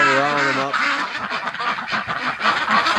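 A flock of breeding ducks in a snowy garden quacks steadily in a dense, overlapping chatter close by. A drawn-out voiced call opens it, and a person may speak briefly over the birds.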